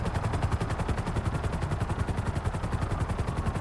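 Police helicopter in GTA V, a loud, steady, rapid rotor chop with continuous engine drone throughout.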